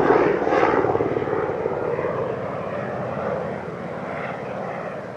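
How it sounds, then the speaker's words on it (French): A helicopter sets down nearby beside a stream along the Rioumajou road in the Hautes-Pyrénées, its engine and rotor a steady broadband roar that eases slightly as it lands. "qu'est-ce qu'il fait l'hélico là-bas? Il se pose."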